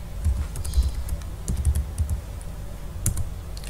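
Keys on a computer keyboard are typed in quick irregular bursts, close and crisp, with no talking.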